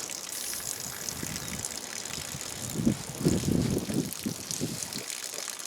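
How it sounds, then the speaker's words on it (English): A liquid sprayer hisses and gushes as it sprays underneath an RV camper during fall winterizing, a steady close spray with a few louder bursts midway. "Let me spray underneath here."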